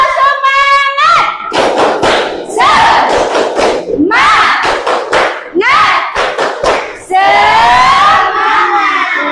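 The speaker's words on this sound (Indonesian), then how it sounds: "Ya, tepuk semangat" Schoolchildren in a classroom perform a rhythmic spirit clapping chant, loud shouted syllables alternating with sharp group claps and thumps in quick bursts, with a teacher's voice in places.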